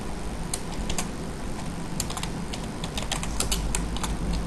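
Someone types code on a computer keyboard in bursts of light, quick key clicks that are close and clear, over a steady background hiss, with no talking.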